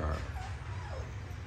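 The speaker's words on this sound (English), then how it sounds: "So I just want to show y'all these dogs, man. These the puppies, man." Puppies whimper and yip softly, a couple of thin high whines rising and falling over steady background noise, fairly faint and close, with a person talking nearby.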